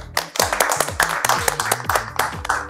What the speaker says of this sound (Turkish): Bir daha alkışlayalım.